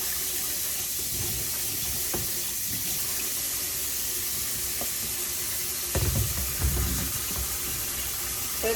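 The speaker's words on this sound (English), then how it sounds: "Now what I'm going to do, using my drain bowl, because the noodles have sat for a bit," Cooked noodles poured into a colander in a home kitchen, giving a steady loud rush of running water with a few soft clatters and splashes partway through, no talking.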